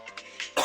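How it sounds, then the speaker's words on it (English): A single sharp cough bursts out at close range near the end, after faint throaty sounds, in an informal podcast setting. "I got the roach cough."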